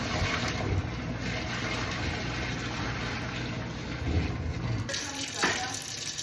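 Steady running water pours and splashes as beef bones for pho are rinsed in a kitchen, a continuous close gush with faint clatter, briefly lightening near the end.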